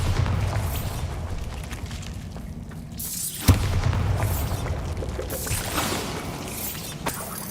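Bombarda spell blasting a barrier in a video game, a single sharp boom midway through set among rumbling, mechanical background effects, with a smaller thump near the end.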